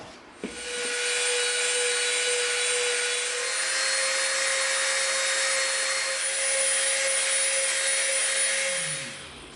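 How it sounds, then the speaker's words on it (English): A Dremel rotary tool grinds and rounds the edge of EVA foam, a loud, steady high-pitched whir that starts abruptly, runs without a break and cuts off near the end, with no talk. "we're going to slightly round this edge with our Dremel"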